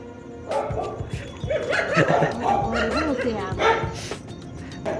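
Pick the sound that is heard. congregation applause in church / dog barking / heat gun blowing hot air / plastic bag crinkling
dog barking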